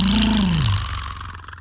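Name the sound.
man imitating a motorcycle engine with his voice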